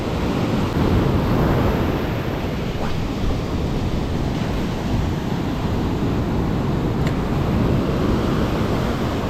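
Steady broadband rushing of choppy sea surf during bluefish spin fishing, with wind buffeting the microphone, continuous and fairly loud with no distinct breaks.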